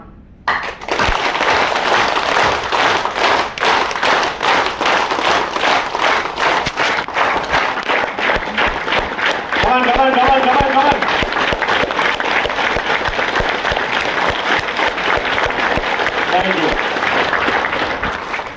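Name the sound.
audience clapping hands fast in rhythm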